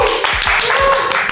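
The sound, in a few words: audience applause for archery champion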